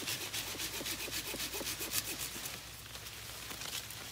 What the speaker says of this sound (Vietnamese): Đó, buộc mình phải cưa cho ánh sáng vô.